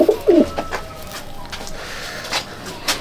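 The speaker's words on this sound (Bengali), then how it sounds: "একটা কালাঙ্কা পায়রা শখ করুন" Kalanka pigeons from a racing pigeon loft coo at close range, with a couple of short low coos at the start and faint chatter and soft background noise after.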